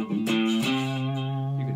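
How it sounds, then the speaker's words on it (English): A distorted 3-string cigar box guitar chord rings out, struck twice, then sustains with a gritty, buzzing overdriven tone. "you can hear that distortion coming in again"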